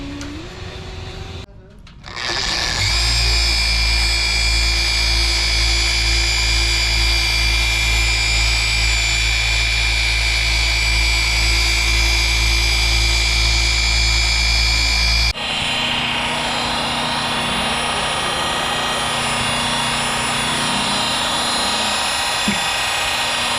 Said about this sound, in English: we are going to transition from the rotary polisher to a random orbital polisher